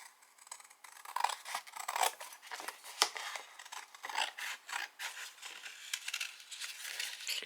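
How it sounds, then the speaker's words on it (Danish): Scissors snip steadily through a fairly stiff sheet, cutting out the shape for a handmade button; a close, quiet series of crisp cuts and rasping scrapes, with no talking. "Klipper formen ud her."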